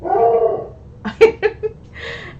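A dog indoors whines, then lets out a quick series of three or four sharp barks, followed by another drawn-out whimper, fairly close and loud, with no talking.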